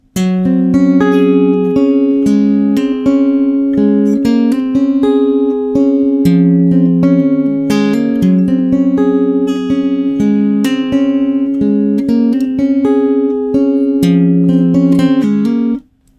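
A guitar plays a synth part as a steady, bright run of picked notes, repeating a phrase that alternates between two endings, loud and close without pause for about sixteen seconds.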